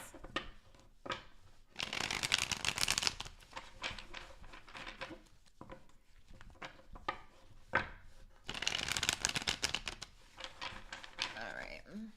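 Tarot cards are riffled and shuffled in two crisp bursts, with softer handling and card taps in between, close to the listener and without talk.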